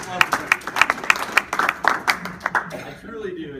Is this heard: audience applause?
yes